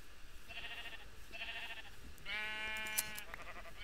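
Sheep in the video game Minecraft bleat several times in short, nasal calls, one after another and fairly faint, with no talking.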